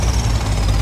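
A tractor engine runs loud and close with a steady low rumble, at a site where tractors haul trolleys of gravel.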